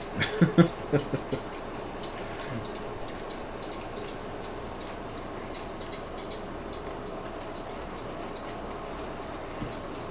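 A model railroad locomotive labours along the track, with a quick burst of clicking rail joints at the start, then a soft, continuous rolling rumble that stays faint and steady.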